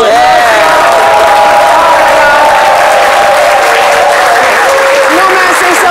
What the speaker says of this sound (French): Merci infiniment, Dr Philo, qu'on applaudit.